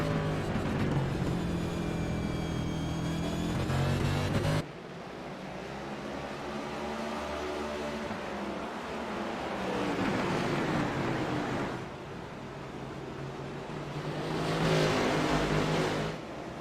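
Race car engines from a Metro Ford Cup Series racing game at Martinsville whine and rev, with several cars' tones rising and falling as they pass close, a sharp cut to a different engine note early on, and no talking.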